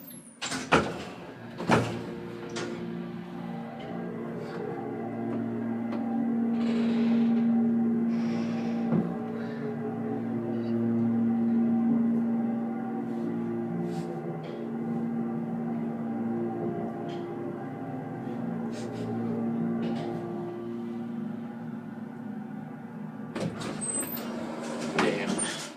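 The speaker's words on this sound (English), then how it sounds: "the motor sounds like it's like right on it." A loud Dover hydraulic elevator motor in a Sacramento office building runs steadily through the ride with a sustained hum and a strong tonal drone. Door or mechanical clunks sit at the start and near the end.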